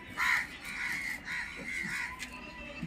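Crows cawing near a racing homer pigeon loft, a few harsh calls standing out at moderate distance over a dull outdoor background.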